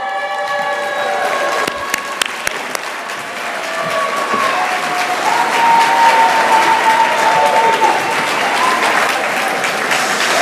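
Sustained applause from a conference audience at an industry awards ceremony, steady and full throughout, swelling slightly louder in the second half with some faint cheering mixed in.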